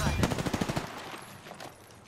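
Rapid automatic gunfire from a video game rattles in a quick burst of about ten close, evenly spaced shots, then trails off into quieter echo.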